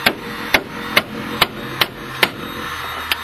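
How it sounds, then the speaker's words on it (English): Hammer striking a brake part to knock it loose during auto repair, about eight sharp metallic blows at a steady, slightly uneven pace, close and loud with no talk. "Hammer it a little bit, make it loose."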